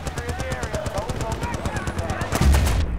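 Rapid, continuous machine gun fire from an MG nest in the video game Battlefield Bad Company 2, a loud rattling burst of closely spaced shots that ends in a heavier blast.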